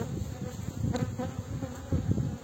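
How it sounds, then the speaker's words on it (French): Honey bees in a swarm buzz densely and steadily during a varroa mite infestation check on a hive, a close, continuous droning hum that swells slightly in places, with no talk. "c'est un essaim"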